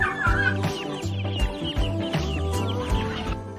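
Chicken hen clucking close by in a coop setting, a steady run of low, repeated clucks and throaty calls with several bursts over a few seconds and no talk.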